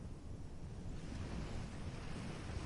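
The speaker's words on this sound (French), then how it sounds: "Entendez le clapotis de l'eau sur les rochers ou sur le sable." Waves lap on rocks or sand in a steady, low, continuous wash, with wind rumbling across the microphone and no voices.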